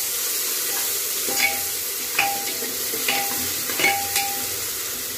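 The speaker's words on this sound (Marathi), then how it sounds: "अद्रक लसूण पेस्ट टाकणार आहोत आपण त्यात। चांगलं परतून घेणार आहोत।" Ginger garlic paste sautéing in a hot pan with a steady close sizzle, broken by a few stirring scrapes of a spoon at irregular intervals.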